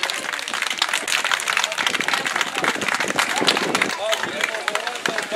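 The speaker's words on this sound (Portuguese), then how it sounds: "peço mais uma vez uma salva de palmas para este grupo fabuloso!" An audience gives a dense, continuous round of applause to a performing group, with scattered crowd voices mixed into the steady clapping.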